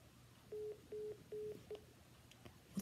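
Four short telephone keypad tones sound in quick succession as a number is dialed, evenly spaced and fairly quiet, with a brief click at the end.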